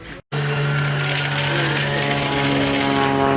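A propeller airplane drones loudly overhead near a steelmaking site, a steady tonal engine roar with a rich stack of harmonics that holds constant after a brief cut near the start.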